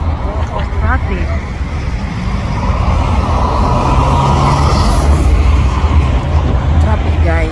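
Steady road traffic with cars and heavier vehicles rumbling past nearby, a continuous low roar with no gaps, while people talk over it.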